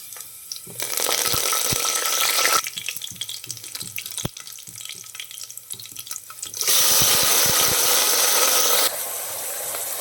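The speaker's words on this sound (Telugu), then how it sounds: "ఇవి వేగిన తర్వాత ఇందులో కరివేపాకు అలాగే క్యాబేజీ ముక్కలను కూడా వేసుకొని కాసేపు ఫ్రై చేసుకోవాలి" Curry leaves and cabbage pieces sizzling in hot oil in a pan, a steady broadband frying hiss that swells loud in two long bursts with stirring scrapes and clicks between, no talk.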